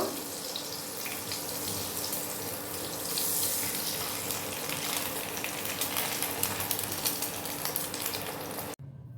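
A Mughlai paratha frying in butter gives off a dense, loud, steady hissing sizzle that holds evenly close by, then cuts off abruptly at the end.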